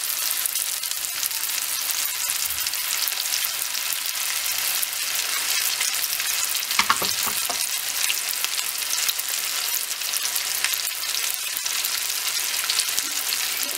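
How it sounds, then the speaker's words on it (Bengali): Chicken pieces deep-frying on a stove over medium-low heat in mustard and soybean oil, giving a steady, dense sizzle that holds evenly throughout with a brief disturbance midway, no voices. "আমি আবার আরেকটা ব্যাচ দিয়ে দিচ্ছি। আমার চুলার আঁচটা মিডিয়াম থেকে লো করে রেখেছি, নাহলে চিকেনটা ভিতরে সিদ্ধ হবে না।"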